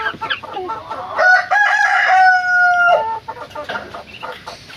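A rooster on a farm kept with Muscovy ducks lets out one long, loud crow close by, its drawn-out call rising and holding for nearly two seconds before dropping away, with faint farmyard clucking around it and no talk.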